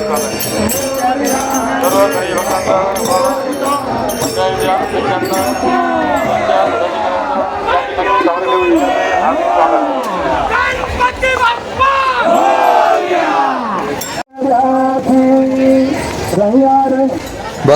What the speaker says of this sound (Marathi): लोकांची किती गर्दी आहे भरपूर लोक आले आहे बघायला